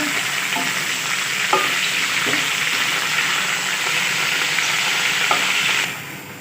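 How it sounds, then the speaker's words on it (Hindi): Steady, loud sizzling of a kilo of beef frying in a hot pan for karahi gosht, with occasional clinks of a utensil stirring, cutting off near the end. "अब हम बीफ ऐड करेंगे 1 किलो। और इसे भी अच्छी तरह फ्राई कर लेंगे।"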